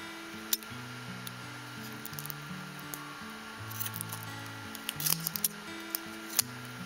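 Scissors snip open the plastic packaging around a stack of Pokémon cards, with scattered close clicks and crinkles over soft background music and no talking.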